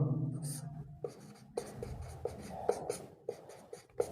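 Chalk or pen taps and strokes on a board during a lesson about Kerala, a series of short scratchy marks with brief gaps between them, close and fairly quiet.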